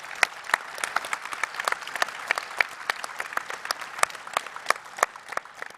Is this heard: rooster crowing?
no